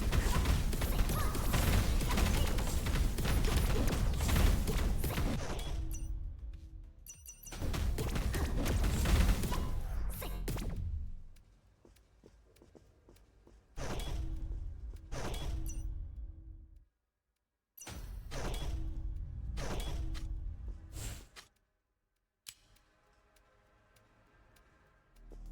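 Bursts of special-attack explosions in the side-scrolling action roguelite Star Fire: Eternal Cycle, loud crashing blasts in several separate clusters with quieter gaps and clicks between them.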